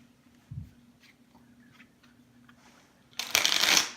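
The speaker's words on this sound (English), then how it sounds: "how many times would you like me to shuffle the deck?" A deck of playing cards is shuffled once in a short, crisp riffle near the end, loud and close, after a quiet stretch with one soft thump; no one talks.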